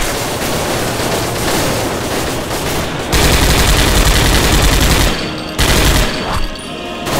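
Loud, dense bursts of rapid machine-gun fire in the video game Commandos Strike Force, heavy and continuous with brief breaks, sounding close.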